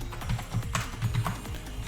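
Typing on a computer keyboard: a quick, fairly even run of close keystroke taps with soft thuds, alone without any talk.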